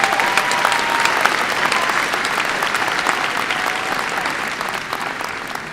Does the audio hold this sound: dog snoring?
no